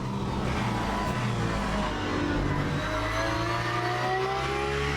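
Porsche race car in Le Mans Ultimate, a steady loud engine drone with rising revs through gear changes, close and continuous with no talk.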